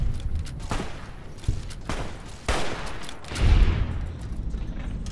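Gunfire in the video game Fallout New Vegas comes in several sharp, booming bursts spaced about a second apart, with rumbling tails between them during a fight against a Legion attack.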